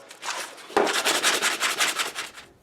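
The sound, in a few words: sanding plastic by hand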